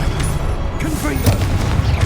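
A Confringo fire spell blasts off in Hogwarts Legacy, a short booming burst riding over a steady rumble of game ambience with a sharp crack near the middle.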